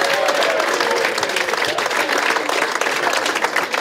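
Dense, loud applause from a crowd at a MoDem election-night gathering, greeting a newly elected deputy from Mayotte with sustained clapping throughout.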